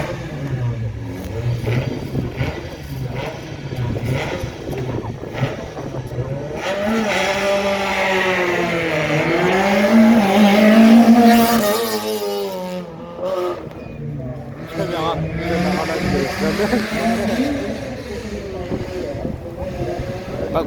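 Peugeot 106 rally car at a hill climb race, engine revving and rising through gears as it passes at medium distance, with crowd chatter and wind underneath.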